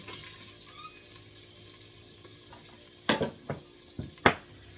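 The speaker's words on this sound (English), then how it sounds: "next we are going to add some sliced bacon" Sliced bacon going into a hot Deluxe Multi Cooker pot: a quiet low sizzle, then several sharp clanks and scrapes in quick succession as the strips are dropped in and moved around.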